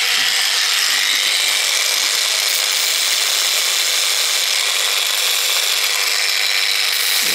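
A small wooden automata part being sanded down to fit, a continuous loud hiss of abrasive on wood that holds steady for several seconds without pause.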